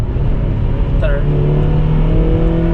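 Honda engine with VTEC pulling hard through the gears, a loud steady drone heard from inside the car, with a brief rising whine partway through.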